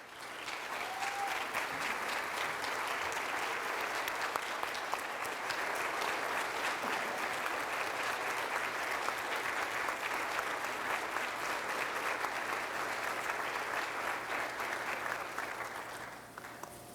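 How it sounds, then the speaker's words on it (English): Sustained applause from a crowd at a Ridgeland High School Hall of Fame induction ceremony, dense and even, continuing for many seconds before tapering off, recorded somewhat distant. "Please give a round of applause to the great, legendary Coach Peggy Berry"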